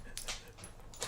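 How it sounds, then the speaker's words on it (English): A dog on a farm with horses and goats gives short, high whimpering whines in a quick burst, close by and alone. "Dogs."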